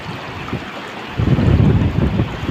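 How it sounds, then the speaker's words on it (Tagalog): Ocean surf rolls in by the island shore of Cahayagan in Lao-ang, Northern Samar, with a surge of wave noise swelling halfway through and gusty wind buffeting the microphone. "Grabe yung mga alon, no?"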